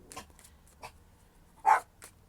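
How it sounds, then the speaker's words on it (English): A dog barks indoors in a few short, separate yelps spread across a couple of seconds, one louder than the rest, against an otherwise quiet room. "My apologies for my dog."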